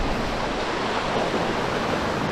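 Sea waves wash steadily onto the shore at Cha-am beach in Thailand, a soft, continuous broadband surf rush with no voices.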